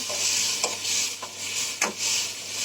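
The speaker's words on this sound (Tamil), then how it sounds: "இது நல்லா எண்ணெயிலே வதங்கட்டும்" Tomatoes softening in oil for a simple chutney give a bright, continuous sizzle, broken by three or four scraping stirs of a spoon against the pan.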